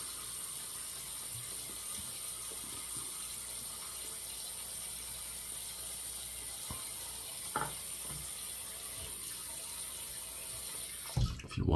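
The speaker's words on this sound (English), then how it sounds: "Put a little bit more water in the bowl." Tap water running steadily into a shaving bowl, a faint continuous wash of flow with a few small clicks and knocks of handling near the end.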